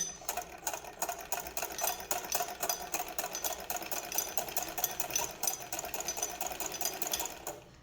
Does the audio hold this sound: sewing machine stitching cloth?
yes